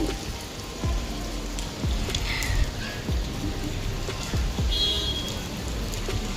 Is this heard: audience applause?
no